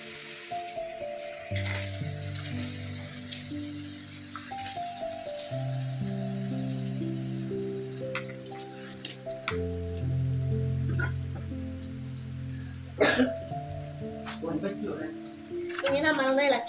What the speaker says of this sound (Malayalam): അപ്പോൾ നമ്മൾ ഈ അരിഞ്ഞ് വെച്ചേക്കണ കടച്ചക്ക നമുക്ക് എണ്ണയിലോട്ട് ഇടാം